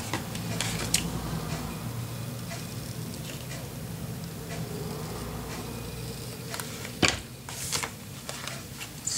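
Scissors snip a small piece of paper for a Peter Rabbit folio mini album, with quiet, irregular cuts and a couple of sharper clicks over a steady low room hum and no talk.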